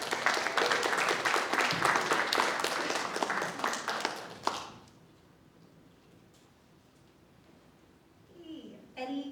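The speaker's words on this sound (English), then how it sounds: "Give them a round of applause." An audience at a Bike Story Night event on the UT Austin campus applauds the Orange Bike Project team, loud dense clapping for about four and a half seconds that stops abruptly, followed by quiet room tone and a voice speaking.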